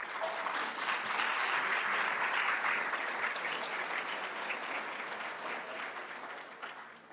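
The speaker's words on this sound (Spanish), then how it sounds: "Los dejo con ustedes, por favor, con un fuerte aplauso" Strong, sustained audience applause welcoming a Universidad Autónoma de Madrid lecturer at a talk on consciousness, a dense wash of many hands clapping that holds steady for several seconds before tapering off.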